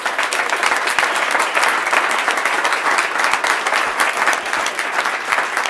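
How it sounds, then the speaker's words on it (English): A room full of people at a startup pitch event in Kansas City claps loudly and continuously, a dense, steady applause with no gaps. "huge round of applause"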